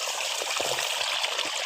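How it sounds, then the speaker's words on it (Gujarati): Irrigation water trickling out through a breach in a field bund made by rat burrows, a steady close gurgling flow with no talk over it. "ઉપલા ભાગમાં પાણી પાવે, આયા ઠેઠ પાણી નીકળ્યું"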